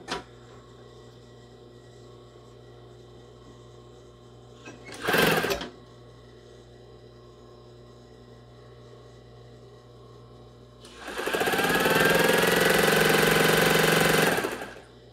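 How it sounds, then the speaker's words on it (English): Sewing machine running to wind a bobbin in black thread in a garage, a brief whirring burst followed later by a longer steady motor hum of about four seconds, close with a low background drone between. "I'm gonna run the machine a little bit first, and then this will begin winding my bobbin in black"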